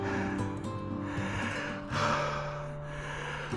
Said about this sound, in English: 15 seconds of heavy breathing on video.